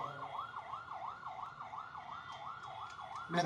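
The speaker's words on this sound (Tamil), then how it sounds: "ஆம்புலன்ஸ் அப்படியே கொஞ்சம் வழி விடுங்க" Ambulance siren wailing in a steady rising-and-falling cycle through street traffic, fairly loud and continuous, with a brief louder burst at the very end.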